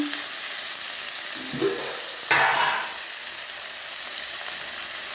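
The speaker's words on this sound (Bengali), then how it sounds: "নাড়াচাড়া করবো।" Food frying in a pan gives a constant high sizzling hiss close up, with a couple of stirring scrapes and a brief louder surge of sizzle as the food is moved, and no talking.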